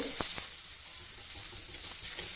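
Green chillies and onion fry in a pan with a bright, continuous hiss and sizzle, plus a couple of brief clinks early on, close and steady with no talking.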